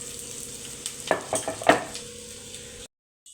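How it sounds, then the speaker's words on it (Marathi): Onion hitting hot oil in a pan sets off a short burst of sizzling with a few stirring clinks, loud and close, before cutting to silence. "तेल चांगलं गरम झालं की मग त्याच्यामध्ये कांदा घालायचा आपल्याला."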